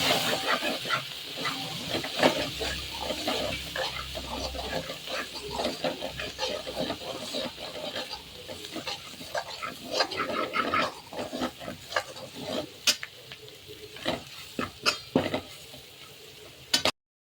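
A ladle stirs and scrapes pav bhaji through black masala and mutton masala in a pan, with a steady sizzle of frying, frequent clinks against the metal and soft hissing throughout.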